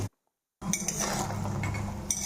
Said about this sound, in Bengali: এখন 1 চামচ তেলের মধ্যে প্রথমে অল্প কয়টা বড়ি ভেজে নিচ্ছি